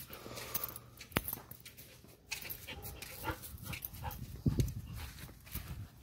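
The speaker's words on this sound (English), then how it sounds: "She probably barking at the dogs," A dog barks and yips somewhere in the room or just outside, in short irregular bursts over six seconds with background noise, no voices.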